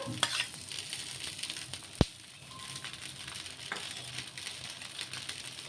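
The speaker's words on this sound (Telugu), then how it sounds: "వేసుకున్న తర్వాత హైలో పెట్టుకొని కాల్చుకోవాలి దోశను" Dosa batter of sago and moong dal roasting in oil on a hot pan, a steady soft sizzle and faint crackle throughout, with one sharp tap midway.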